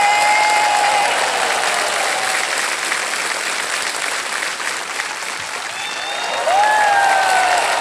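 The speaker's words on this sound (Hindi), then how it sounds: "ताली बज जाएगी।" Studio audience applause on the Kaun Banega Crorepati game show, loud sustained clapping from a large crowd filling the whole stretch, with a few tonal music sweeps rising above it near the end.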